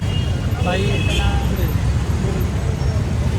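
Busy road traffic on FC Road in Pune on New Year's night, a dense continuous roar of cars, buses and motorbikes close by, with occasional horn toots and crowd noise mixed in.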